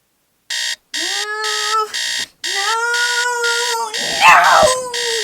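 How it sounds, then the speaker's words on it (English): A morning alarm clock goes off, with loud, insistent beeping bursts in a repeating pattern, each with a rising warble. Near the end a voice cries out over the alarm. "my alarm would wake me up at 5:45 in the morning"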